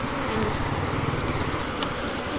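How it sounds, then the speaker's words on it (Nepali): A swarm of honey bees buzzes steadily and densely up close, a continuous droning hum with no talking, as the settled cluster is shown before capture of an absconded colony. "अब यहाँनिर पुरै माउरी बसिसकेको छ।"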